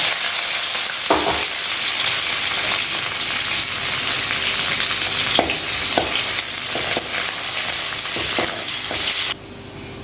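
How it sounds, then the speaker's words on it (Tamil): Small shallots and curry leaves sauté in hot oil with already-popped mustard seeds and dal for a village-style dried fish curry, a dense continuous sizzle close by, broken by repeated clinks and scrapes of a stirring spoon against the pan. "வெங்காயம் கருவேப்பிலை நல்லா வதங்கிட்டு"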